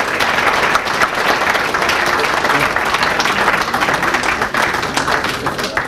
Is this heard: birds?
no